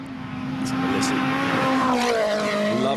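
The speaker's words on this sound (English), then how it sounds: "Love the sound of this car." A WRC rally car at speed on the 2011 Wales Rally power stage, its engine note steady and loud with a rising rev sweep near the end, heard outdoors without talk.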